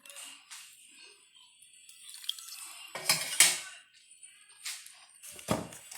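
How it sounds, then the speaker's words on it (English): Ice and Thai tea go into a glass, with a few close clattering knocks and rattles of ice and dishware separated by quiet gaps and no talking. "Then you're gonna add some ice. And now you put the Thai tea in."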